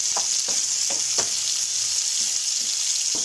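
Beetles cooked with tomatoes frying in a pan, a loud, bright, steady sizzle with a quick series of scraping stirs in the first half, up close and with no one talking.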